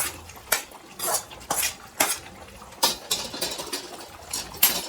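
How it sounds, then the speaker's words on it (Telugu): Fried prawns are stirred in a pan with potatoes, a series of sharp metal spoon scrapes and clinks against the pan at an uneven, quick rhythm, close and clear. "ఇప్పుడు మనము రొయ్యలు వేసుకుందాం. మంచిగా నూనెలో వేగిన రొయ్యలు కడిగి వేసుకున్నాం"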